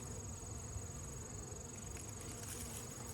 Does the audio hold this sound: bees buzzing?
yes